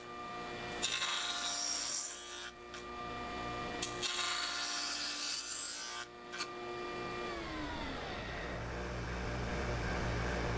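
A power saw cuts a lap joint through a soft wood board for outdoor patio furniture, taking the full 3/4 inch in one pass. It is a loud, steady close-up whine with brief dips and a winding-down tone at the end.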